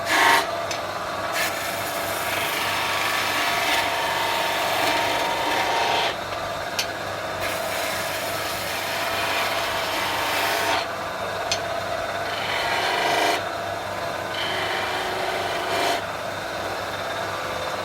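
A skew chisel peels across spinning wood on a lathe while turning a small snowman, a steady close rasping scrape over the motor's hum, with brief breaks as the tool is repositioned.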